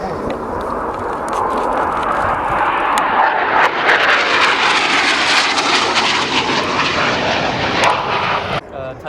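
A roaring Harrier jet passes overhead at an air show, a loud, broad engine rumble and whine swelling and holding for several seconds before easing off.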